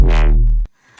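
A loud, deep Serum synth bass note, unfiltered and without effects, with a bright buzzy edge that fades, held for about half a second before cutting off abruptly.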